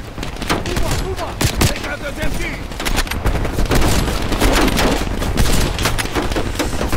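Gunfire from the video game Call of Duty Black Ops Cold War, with loud, rapid bursts and single shots cracking in uneven rhythm, layered with booming impacts throughout.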